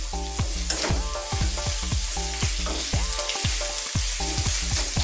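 Garlic sizzling and frying in a pan for a Filipino garlic shrimp dish, a steady loud crackling hiss broken by regular scraping stirs of a utensil, with no talking.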